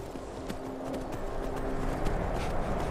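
Horse hooves clip-clop in The Elder Scrolls V: Skyrim at a steady trotting rhythm, moderately close, over a dense rumbling game ambience with faint tonal music underneath.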